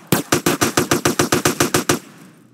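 A fast burst of about ten evenly spaced, loud gunshots rings out during a GTA San Andreas police station shootout, ending with a short fading tail.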